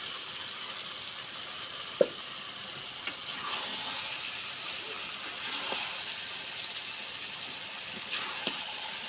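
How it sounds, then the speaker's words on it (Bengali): Fried meat, pointed gourd and potato sautéing with spices in hot oil, giving a steady close sizzling hiss broken by a few sharp stirring clicks and scrapes, with no talking. "মশলার সাথে এখন আমরা ভালোভাবে কষিয়ে নেব"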